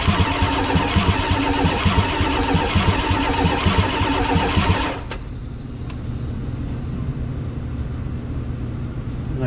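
A 1984 Dodge W150 engine cranking with the throttle open during a compression test, a loud rhythmic starter churn for about five seconds that then cuts to a quieter steady hum.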